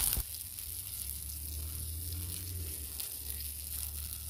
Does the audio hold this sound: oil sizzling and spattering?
yes